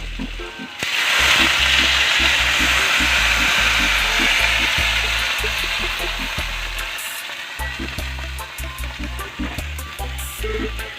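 Squash cooking in a pan just after water is added, a steady loud sizzle and bubbling hiss that starts abruptly and carries on close up for about ten seconds, with faint scraping beneath.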